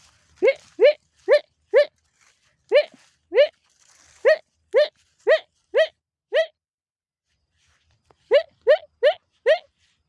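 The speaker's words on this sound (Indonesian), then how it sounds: "Beginilah proses memanggil kambing ketika angon." A goatherd calls goats in a harvested corn field: about fifteen short, tonal, bleat-like calls in a steady rhythm, grouped in bursts with pauses between, loud and near against quiet surroundings.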